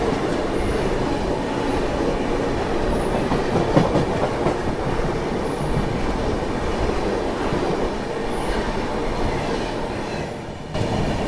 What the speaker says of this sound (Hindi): लो इंटरसिटी, अभी नाम ले रहा था और लो इंटरसिटी आ गई।